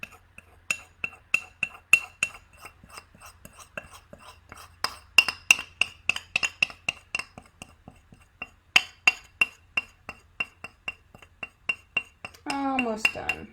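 A spoon scraping melted chocolate from a bowl in a home kitchen, a steady series of close, sharp clinks and scrapes at an uneven rhythm, with a brief rustle at the end.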